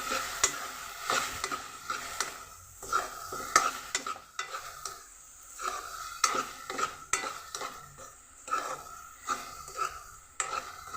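Halwa made with jaggery and plenty of ghee stirred in a pan, with a spoon repeatedly scraping and clinking against the metal over a soft sizzle, in close, rhythmic strokes with no voices.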